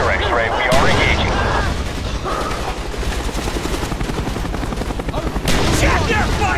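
Dense gunfire and explosions from the Call of Duty: Black Ops video game, with rapid bursts rolling on under loud booms and rumble. Radio voices and shouts come through the din.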